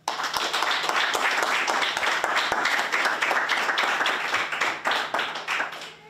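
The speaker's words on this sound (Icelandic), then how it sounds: "Gefum þeim gott klapp." A sports club's awards celebration fills with loud, continuous clapping as the women's team captains come up to receive their trophies, individual claps standing out over the crowd before it fades near the end.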